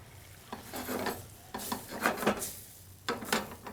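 Pasta with capers and olives tossed in a pan, soft sizzling and scraping stirs arriving in several short bursts, close and faint.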